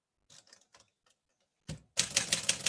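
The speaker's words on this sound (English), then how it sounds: "we are going to be writing several stories on my typewriter here today" A typewriter clacks up close: a few scattered keystrokes with pauses, then a dense, loud burst of rapid typing at the end, with no voices.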